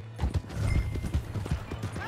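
Horse hooves clip-clop in a steady, rhythmic trot in the Western video game Red Dead Redemption 2, close and fairly loud over a low ambient hum of the game world.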